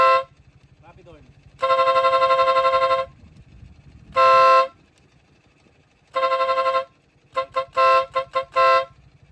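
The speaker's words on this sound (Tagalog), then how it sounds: "Rapid horn." A compact vehicle horn sounds in loud, rapid blasts: a long honk, a short one, another long one, then a quick stuttering burst of toots, all over a low steady engine hum.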